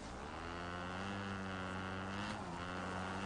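A vehicle engine in a video game hums steadily with a low, tonal drone that rises slightly in pitch near the end like a light rev, constant and close with no speech.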